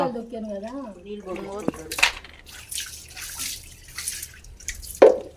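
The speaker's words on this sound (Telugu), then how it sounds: "నీళ్ళు పోసుకుంటున్నా" Water poured by hand into a cooking pot in a home kitchen, a steady splashing stream lasting a few seconds with a louder splash near the end, after a brief voice at the start.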